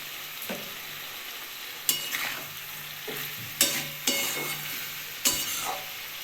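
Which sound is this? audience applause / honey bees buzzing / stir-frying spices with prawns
stir-frying spices with prawns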